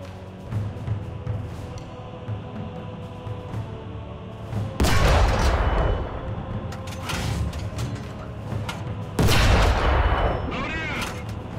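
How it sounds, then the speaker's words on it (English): Tank cannon shots in War Thunder's ground forces mode, two heavy booming blasts a few seconds apart over a steady low engine rumble and game background noise, with voice narration running throughout. "Now fire at the fighting compartment on the tank."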